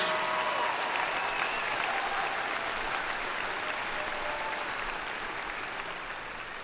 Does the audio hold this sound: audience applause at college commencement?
yes